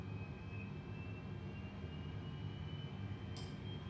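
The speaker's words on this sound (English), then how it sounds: "You'll hear the APU kick in now in preparation for engine start." An airliner's auxiliary power unit spins up in Microsoft Flight Simulator 2020, a steady low mechanical drone with a thin high whine running underneath, holding at a constant level with no talk.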